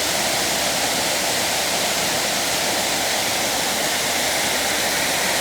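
An outdoor waterfall on a sunny day roars as a loud, steady wash of broadband rushing water, close by, with no break or change throughout.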